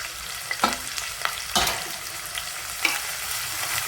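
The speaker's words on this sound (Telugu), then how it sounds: "కరివేపాకు ఆనియన్ వేసి వేయించుకోవాలి" Curry leaves and onion fry in a pan for a flour curry, a steady broad sizzle with occasional stirring scrapes and small pops, close and continuous, no talking.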